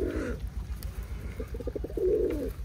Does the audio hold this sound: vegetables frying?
no